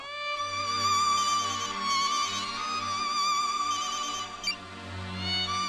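A mobile phone rings with a sustained melodic electronic ringtone that plays continuously and fairly loud for several seconds in a comedy scene.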